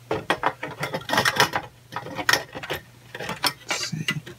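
Plastic cover being fitted back onto a 2006 Apple Xserve 1,1 server, a close run of clattering plastic clicks, scrapes and snaps in quick irregular bursts.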